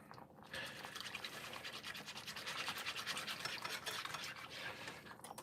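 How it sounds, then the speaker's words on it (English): A whisk stirs marinara sauce in a bowl, giving a steady, close scraping and swishing that runs continuously without pause. "now I can whisk it all together anyway"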